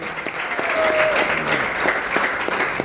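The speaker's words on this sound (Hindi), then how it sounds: "इनके लिए एक तालियां शानदार होना चाहिए" Loud, steady clapping from a crowd at a gathering for Gurudev Dharmraj Yadav, continuous for a few seconds with no talk over it.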